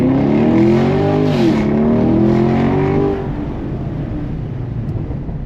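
A Chevrolet Camaro LT1 fitted with an ATI 10% underdrive pulley accelerates hard, engine revving loud and close through rising gears for about three seconds, then dropping back to a steadier cruise.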